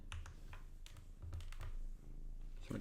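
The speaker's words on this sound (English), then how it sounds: "My cat's on my keyboard." A cat steps across a computer keyboard, producing a short run of irregular, soft key clicks and taps, close and fairly quiet, with no talking.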